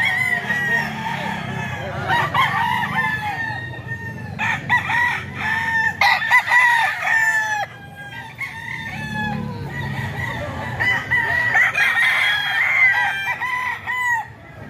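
Banded gamefowl roosters in San Jose del Monte, Bulacan crow loudly and repeatedly, their long calls overlapping with clucking from other birds nearby.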